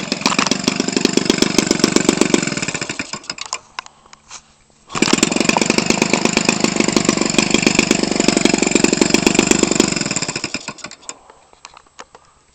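A green Homelite 25cc small two-stroke engine runs loud and close with a steady, buzzy high-revving drone, stops briefly to a faint idle, then picks up again at full speed before dying away.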